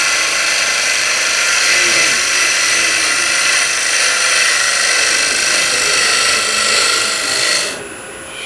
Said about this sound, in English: I can start my push cut from the base up to the rim, since it's side grain